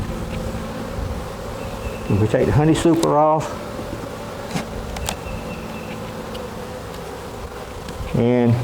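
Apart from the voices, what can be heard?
honey bees buzzing at opened hive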